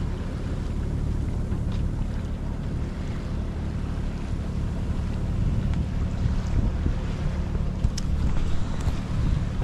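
Light wind of about four knots over a sailboat at sea, its sails barely filling above rippled water: a steady, close, low rumble of wind and water that runs unbroken throughout, with no voices.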